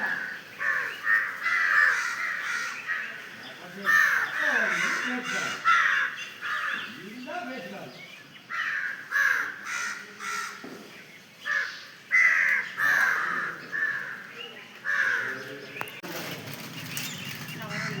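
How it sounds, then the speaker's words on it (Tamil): Crows caw repeatedly at a temple where biscuits and sweets lie as offerings, harsh loud calls coming in quick overlapping bursts, with wing flaps and a person talking over them. "காக்காலாம் வந்து திங்க பாருங்க"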